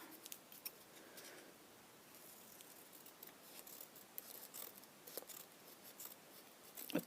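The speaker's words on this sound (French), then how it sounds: "Coup de ciseaux." Scissors snip through scrapbooking paper in a series of quiet, irregular close cuts and papery rustles, faint and unaccompanied by talk.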